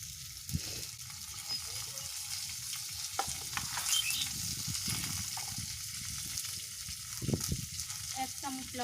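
Eggplant slices fry in hot oil in a pan with a steady close sizzle, broken by the scrape and clatter of stirring. A faint voice sits under the frying.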